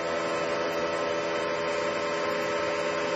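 A 1996 Mazak VTC20B machining center spindle running at its 7,000 RPM top speed gives off a steady, loud, even electrical whine and hum, constant throughout with no talk.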